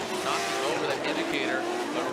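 A Formula Drift car initiates into an outside zone at a competition, its engine wailing high and rising with tire squeal, loud and close, while a commentator talks over it.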